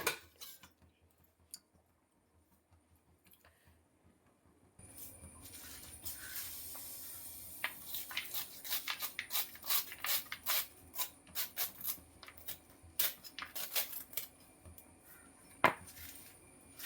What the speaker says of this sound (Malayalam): ഇനി ഞാനിത് അരിഞ്ഞെടുക്കട്ടെ.